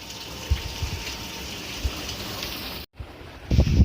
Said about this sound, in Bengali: কি হারে মানে ঝড়ে ঝাপটা দিচ্ছে দেখো, তার সাথে বৃষ্টি হচ্ছে প্রচন্ড পরিমাণে